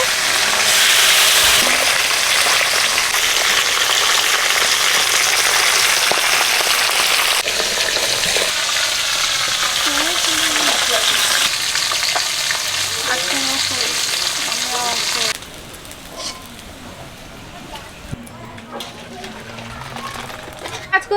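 Panch phoron, chopped onion and dal go into hot oil with dried chilli and bay leaf, giving a loud, dense sizzle that dies down midway, then softer frying with stirring scrapes and light clatter.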